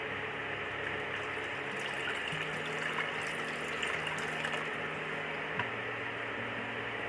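Water is poured into a kadhai for tomato soup, giving a steady, continuous liquid rush with a low hum underneath and no speech.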